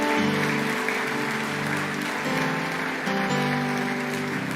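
A church congregation gives loud, sustained applause at a Spanish-language service. The dense clapping runs steadily over sustained musical tones.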